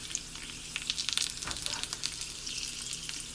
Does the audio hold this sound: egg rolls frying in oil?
yes